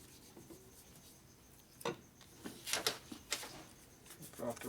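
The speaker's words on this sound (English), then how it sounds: "You go across the top, and it just rubs right off" Residue being wiped and rubbed off the top of a Harley shovelhead stroker big bore motor, faint scratchy strokes in short irregular bursts, growing busier toward the end over a quiet background.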